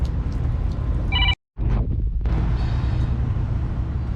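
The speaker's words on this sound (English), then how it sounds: "Phone's ringing every time." A telephone on a rooftop gives a short electronic ring over steady wind and outdoor rumble, followed by a brief dropout, with the faint ring tones returning later.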